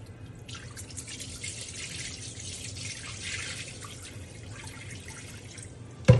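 Ration rice being rinsed in water in a pot, soft continuous swishing and trickling close by, with a louder clink at the very end.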